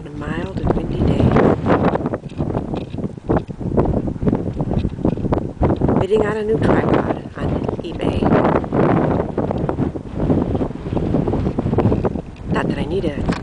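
Steady wind blowing on a mild, windy day at sunrise, buffeting the microphone as a continuous broadband rush beneath someone talking throughout.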